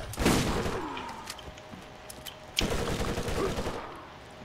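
SMG fire rattles out in the video game Borderlands, two rapid bursts of close gunshots separated by a short gap, with fainter in-game effects in between.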